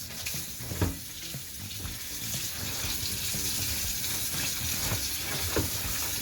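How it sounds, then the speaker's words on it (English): Cold tap water runs over cured Portuguese presuntini meat in a sink, a steady splashing hiss with a few sharper knocks and splatters as the meat is handled beneath the stream. "this here, I will just rinse with some cold water"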